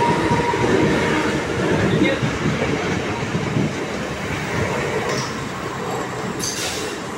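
A Mumbai local train pulls in at the Thane station platform, a loud, steady rumble of wheels and carriages that fills the clip with a faint hiss near the end.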